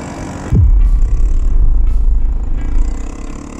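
A Vespa scooter engine starts with a sudden loud burst, then settles into a steady, close, low running rumble for a few seconds with no voices over it.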